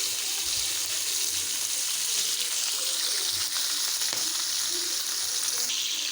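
Fish fry in hot oil in a pan with a steady, dense sizzle and crackle throughout, close and fairly loud, with no voices.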